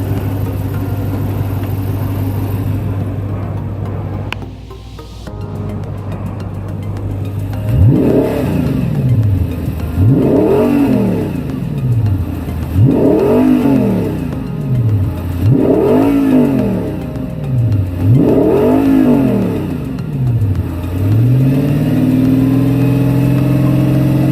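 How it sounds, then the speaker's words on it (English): An Audi R8 V8 engine idles, then is blipped five times in a row, each rev rising and falling, with a deep, throaty aftermarket exhaust note close by. "Just give it a blip. This has got a nice exhaust on it."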